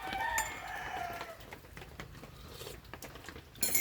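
Chickens clucking with a rooster crowing in a farmyard on a Sunday morning, fairly close and steady throughout with no talk.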